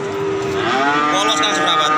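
Cow at a cattle sale gives one long, loud, close moo that starts low, then rises and swells into a rich, drawn-out bellow.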